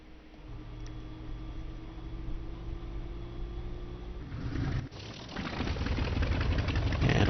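LaGG-3 fighter aircraft engine in the IL-2 flight sim, idling low and steady with harmonic drone, then catching and roaring louder into a rough, broadband run after the start, no talk over it.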